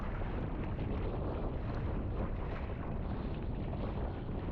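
Wind buffets the microphone during a sea kayaking outing off Key West in rough water, a steady loud broadband rush that runs without a break from start to finish, with no voices.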